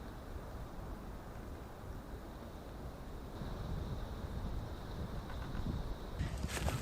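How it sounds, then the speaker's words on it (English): Strong cold wind blowing outdoors on a freezing walk, a steady broadband roar buffeting the microphone that grows slightly louder and gustier toward the end, with no talking. "Oh, this bloody wind,"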